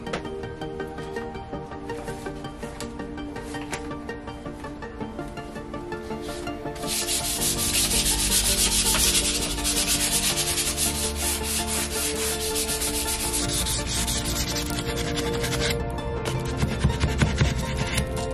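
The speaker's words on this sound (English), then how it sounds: "But this is bare wood, so we just need to sand this down and get it cleaned up." Bare teak wood being sanded on a sailboat, a steady close rubbing and scratching that grows louder and harsher about halfway through and keeps going with no talk.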